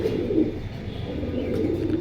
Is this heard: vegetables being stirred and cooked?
no